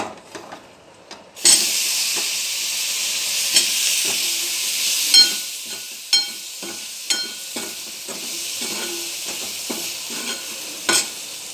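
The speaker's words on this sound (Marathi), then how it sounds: "आता हे चांगलं फ्राय करून घ्यायचा मसाला तेलामध्ये आता टाकायचे शेंगा ह्याच्यामध्ये" Moringa drumstick pods tossed into spiced masala frying in oil give a sudden loud sizzle that settles into a steady hiss, broken by repeated sharp clinks and scrapes of a spoon stirring the pan.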